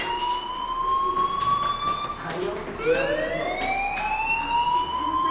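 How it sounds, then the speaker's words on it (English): A loud, continuous fire alarm wails in the Life is Strange video game, its rising and falling siren tone sweeping up again midway through, with no voices. "Hey, do you hear that fire alarm? That means you should be outside."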